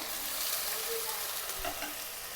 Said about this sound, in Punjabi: ਹੁਣ ਆਪਾਂ ਇਹਦੇ ਵਿੱਚ ਅਦਰਕ ਤੇ ਲਸਣ ਦਾ ਪੇਸਟ ਪਾ ਲੈਂਦੇ ਆ